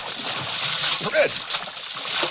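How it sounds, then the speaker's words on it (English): Splashing and sloshing water as people go into a river from a wrecked boat in an old radio drama, with voices talking over the water sounds. "Oh, the boat is done for. Into the water."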